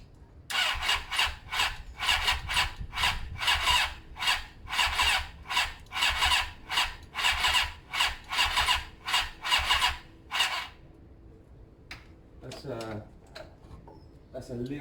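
A Suzuki GS500 motorcycle engine is turned over without firing, giving a fast, even chuff of compression strokes for about ten seconds before it stops and a voice speaks.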